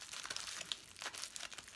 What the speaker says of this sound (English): you get your foil, which I've supplied, break it up